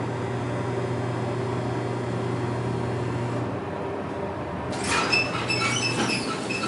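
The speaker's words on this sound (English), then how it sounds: "And the back door should open." A Delaware hydraulic elevator's back door slides open at Monroe Hall, University of Mary Washington, with a steady machine hum, a short lull, then a brighter mechanical rush as the door moves, close by with no talk.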